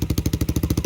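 A Lifan 167FMM engine, a CG250-type motor newly swapped into a Lifan KP Mini 150, idles close up with an even, rapid thumping beat and no other sounds.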